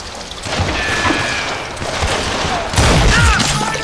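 Gunfire from the Wild West shooter game Call of Juarez: Gunslinger, a loud close barrage of shots with booming reports that grows heavier toward the end.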